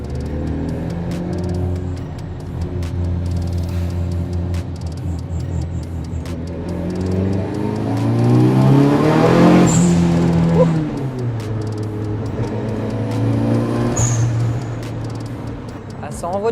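Nissan Silvia S13 with a turbo and dump valve, engine revving up and falling away at moderate distance, with turbo whistle and a couple of sharp dump-valve hisses, heard under ongoing talk.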